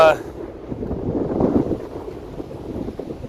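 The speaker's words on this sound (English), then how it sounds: "I know it's windy, so you probably can't hear this real great." Wind buffets the microphone in low, rumbling gusts that swell and fade, with no clear talk.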